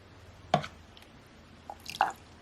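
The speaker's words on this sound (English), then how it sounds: "keep repeating the process, putting in some liquid" Liquid poured onto cotton rounds for homemade makeup remover pads lands in a few close, wet splats and soft squishes, with quiet pauses between them.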